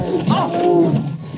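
Big cats from the film Roar, which cast real actors alongside about 200 lions and other big cats, give a deep, rumbling roar that rises and swells across a second and a half, loud and close in a movie soundtrack.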